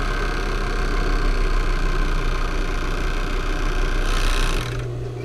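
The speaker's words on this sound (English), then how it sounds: "So I'm just going to overlock the top" An overlocker serges the top edge of fabric for an 80s sailor shirt, a steady dense mechanical whir running close and loud for about four seconds before cutting off to a low hum.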